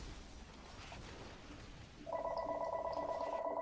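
Telephone ringing with a steady electronic trill starting about two seconds in and continuing to the end, fairly loud over the background sounds of an AirMech Strike 2v2 match.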